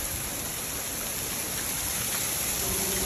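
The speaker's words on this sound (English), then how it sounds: "it's raining ice." Hail falls in a steady, dense hiss of ice hitting surfaces, constant and fairly loud throughout with no voices.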